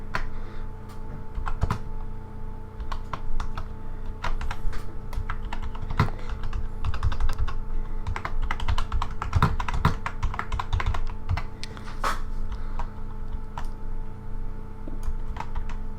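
Steady typing on a computer keyboard with a clacky spacebar, dense irregular keystrokes running throughout at close range with no talking.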